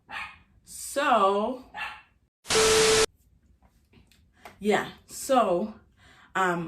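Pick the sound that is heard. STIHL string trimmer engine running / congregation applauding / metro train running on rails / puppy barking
puppy barking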